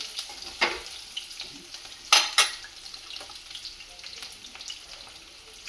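Mustard seeds and peanuts frying in hot oil for a spinach dish, a soft crackling sizzle punctuated by sharp spattering pops and utensil clinks, close and without speech.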